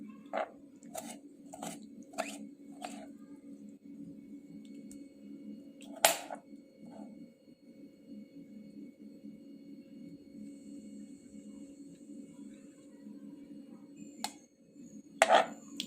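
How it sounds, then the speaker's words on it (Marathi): A knife cuts tomatoes into small pieces on a board: a quick burst of five crisp chops, a lone louder chop, then more sparse cuts over a steady low hum. "कट करायचा टोमॅटो छोट्या छोट्या साईजमध्ये"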